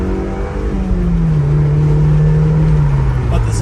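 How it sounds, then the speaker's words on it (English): A stock Mazda Miata NC's exhaust hums in a steady, moderately loud drone, its pitch sagging slightly and then settling as the car cruises, with no voice over it. "The exhaust sounds a bit better."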